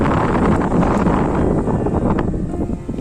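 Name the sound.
strong wind on a hill fort summit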